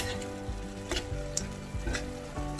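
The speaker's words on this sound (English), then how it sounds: "Evan is just browning the ground beef." Ground beef browns in a pan for chili mac and cheese, with a steady close sizzle broken by a few soft knocks and scrapes of a utensil stirring the meat.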